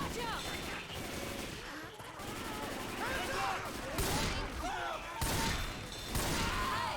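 Gunfire in the zombie shooter Left 4 Dead, Blood Harvest campaign, crackling as sustained bursts over a dense, continuous background of game noise.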